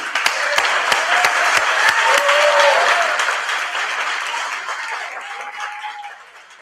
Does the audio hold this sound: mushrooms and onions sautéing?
no